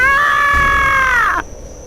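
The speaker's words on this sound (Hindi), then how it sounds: "इतना सुनने के बाद ही वो जोरों से चिल्लाई।" A woman in an animated Hindi horror story screams loudly in one sustained, shrill, piercing cry lasting over a second, then cuts off abruptly into near silence.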